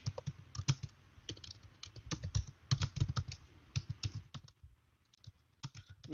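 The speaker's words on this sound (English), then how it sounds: "So I am typing the answer" Rapid, uneven clicking of keys on a computer keyboard is heard close up, in steady bursts with a short pause before the typing resumes.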